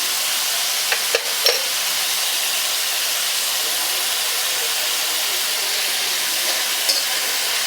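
Jain gravy masala, made without onion or garlic, roasts in a pan with a steady bright hiss and sizzle, broken by a few faint clinks of stirring, with no talking.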